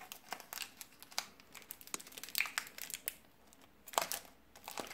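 Crinkly plastic wrappers of Pokémon Sword and Shield Rebel Clash booster packs rustle and crackle in quick, uneven bursts at close range, with sharper rips breaking through the crumpling and no talk.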